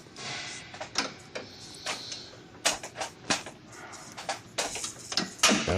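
A regular 10mm socket works loose the hood latch bolts on a Toyota Camry, with irregular sharp metallic ratcheting clicks and clanks, near and fairly loud, in short bursts.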